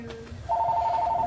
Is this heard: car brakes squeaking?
no